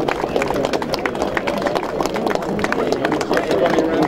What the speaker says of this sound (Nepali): ताली बजाइदिनु समयले प्लिज